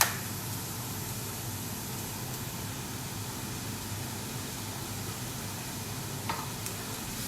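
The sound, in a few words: mushrooms cooking in a pan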